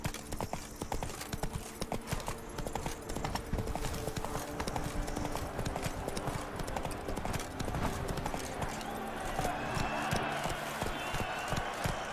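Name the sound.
horse galloping in the video game Witcher 3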